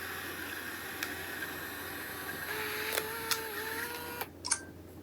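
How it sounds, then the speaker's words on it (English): An Instax mini Evo instant camera prints a photo: a faint, close motor whir with rising whining tones and a few sharp clicks, then a brief mechanical rattle as the print ejects. No one speaks. "It's printing."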